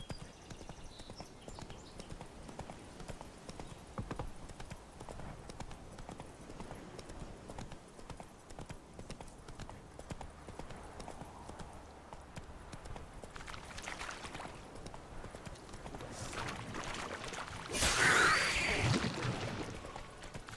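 Horse hooves clip-clop at a steady gait in The Witcher 3, a quiet rhythmic patter under game ambience, with a brief louder burst of sound near the end.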